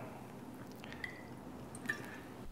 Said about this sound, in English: now we have to add 9 milliliter of distilled water